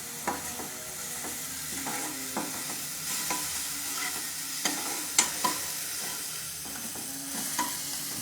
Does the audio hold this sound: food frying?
yes